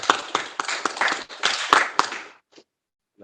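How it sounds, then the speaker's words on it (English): A small group claps at a Kiwanis club meeting: a short burst of distinct, close hand claps in an uneven rhythm lasting about two seconds before stopping abruptly. "Can you give him a round of applause"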